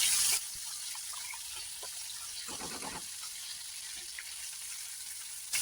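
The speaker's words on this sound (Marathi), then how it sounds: "आणि याला चांगला फ्राय परतून घ्यायचे तेलामध्ये" Whole spices such as cinnamon and black pepper fry in oil in a pan, a soft, even sizzle that holds steady throughout without any talk.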